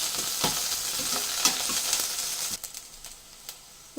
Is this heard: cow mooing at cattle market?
no